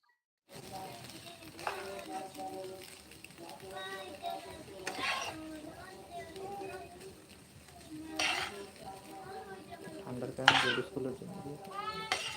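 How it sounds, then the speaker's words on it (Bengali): Noodles stirred and loosened in a pan for Chinese-style vegetable mixed noodles, with soft scraping and clinking of utensil against pan in bursts, a faint sizzle underneath and some nearby talk. "তো এখন নেড়ে নিব নুডলস গুলো একদম ঝুড়ি ঝুড়ি করে নিব"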